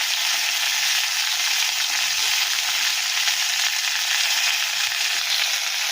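Steady, loud sizzling of fish frying in hot oil, a dense crackling hiss that continues without pause.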